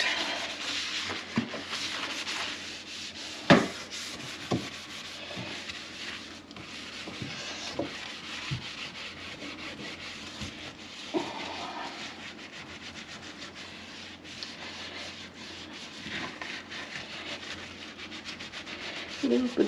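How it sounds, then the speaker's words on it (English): Scrubbing around a kitchen sink during a home cleaning session: steady close rubbing and scouring strokes run throughout, with a few sharper knocks and clunks from items being moved. "we'll go in here and scrub the sink"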